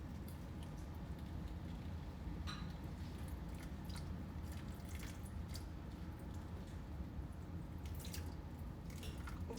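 Water dribbles from a philodendron pink princess plant pot after its first watering, giving faint, irregular drips and trickles over a quiet background.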